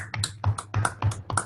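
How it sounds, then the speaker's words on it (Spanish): Online meeting participants clap together through open microphones, giving about six sharp, evenly spaced claps across a second and a half, close and fairly loud with no speech. "a la cuenta de 3 nos aplaudimos"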